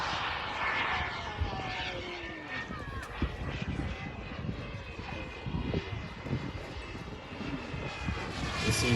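A radio-controlled model jet flying a low pass over an RC park, its turbine whine sweeping steadily by and building toward the end, with wind noise and voices talking underneath.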